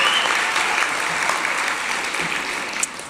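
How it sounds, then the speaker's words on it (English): Audience applause at a teen press conference for a picture book author, a steady dense patter of many hands clapping across the whole stretch and easing slightly toward the end, with no talking over it. "Let's give a round of applause to Vashti."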